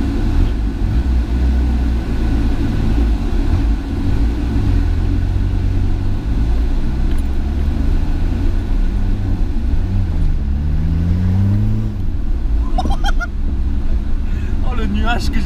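An off-road vehicle driven through mud drones steadily up close, its engine pitch rising and falling as it is revved, with a few clicks and knocks near the end.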